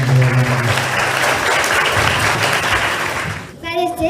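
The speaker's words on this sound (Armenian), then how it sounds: "Ծափերով եկեք ողջունել։" A school audience claps at an awards meeting for a children's swimming tournament, with dense, sustained applause for about three and a half seconds before it stops abruptly and a voice begins.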